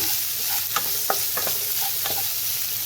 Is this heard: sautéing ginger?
yes